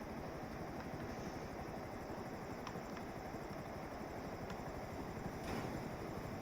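A steady, droning helicopter rotor-and-engine hum in GTA 5 during landing holds throughout at moderate loudness, with a few faint clicks on top and no voices.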